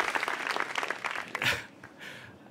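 Audience applause after a story at a live storytelling event, a burst of clapping that swells and then thins out, moderately close and fairly faint overall.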